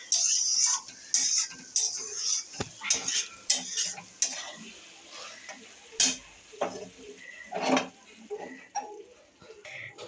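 A spoon scrapes and clinks around a pot as a freshly cooked home-style Bengali dish is stirred just before serving, in uneven bursts of knocks and rasps with quieter pauses between.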